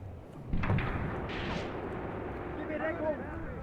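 Artillery gun fire in the WWII tactics game Graviteam Tactics, shooting at a tank: a sharp boom near the start, then a rumbling mix of battle noise with someone speaking over it.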